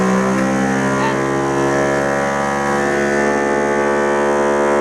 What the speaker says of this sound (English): click the vacuum button.